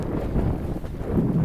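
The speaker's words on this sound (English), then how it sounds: "the wind has picked up a little bit" Low, rumbling wind buffeting the microphone at the start of a Flying Scot sailboat race, a steady gusty roar with no distinct events.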